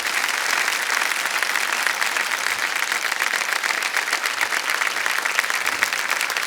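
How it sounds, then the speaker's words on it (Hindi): Studio audience applause for a contestant on Kaun Banega Crorepati, a loud, even wall of clapping that carries steadily throughout without any talk over it. "तालियां बज जाए इनके लिए"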